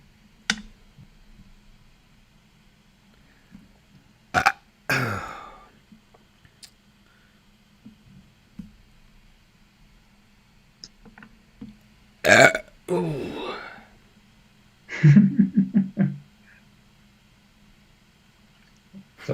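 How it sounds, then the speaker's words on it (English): Several loud, close burps erupt at irregular intervals between stretches of near silence, with faint clicks and small handling noises in between during a miniature painting session. "It's always good to have a few burps in there."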